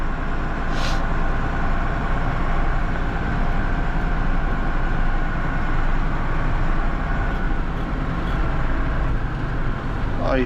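A municipal road gritting truck drives along snowy local roads spreading grit, giving a steady, loud engine and road rumble that fills the whole stretch without a break.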